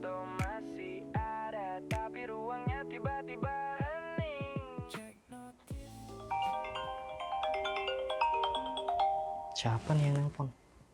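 A mobile phone ringtone plays a repeating melodic chime, fairly loud and close, then a second phone tune sounds while people talk over it.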